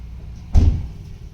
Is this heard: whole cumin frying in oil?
no